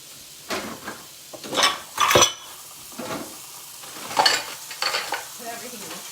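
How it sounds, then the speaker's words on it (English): Pans being rinsed in a kitchen sink give irregular bursts of splashing water and clattering metal, several short loud clanks and scrapes separated by quieter gaps. "So I'll rinse out all my pans to recycle."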